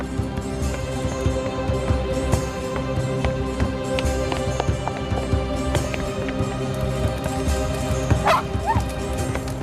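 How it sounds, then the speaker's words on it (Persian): A dog barks and yips repeatedly over a dense, busy background of music and other sounds, the barks fairly close and steady through the stretch. "سگ تو بوده است"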